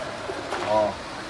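A pigeon gives a brief soft coo in a pigeon loft, a single short call over a faint background murmur.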